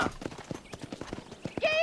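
Rhythmic clip-clop of horse hooves at a steady trot in the video game Red Dead Redemption, close and fairly loud, ending with a short whinny.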